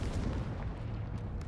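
The Confringo fire spell in Hogwarts Legacy bursts out as a deep, heavy boom that rumbles and fades over a second and a half, with no talk over it.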